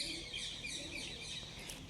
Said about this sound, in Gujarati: અને કબૂતર રહ્યા બધા બેસેલા.